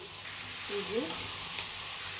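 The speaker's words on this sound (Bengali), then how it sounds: "পেঁয়াজটা কষা ভাজা হইলে মশলাটা দিয়ে দিলাম" Onions fry in a pan with cumin, coriander, turmeric and chili, giving a soft, steady sizzle. A utensil stirs and scrapes through the mixture a couple of times, and the sound stays quiet and close.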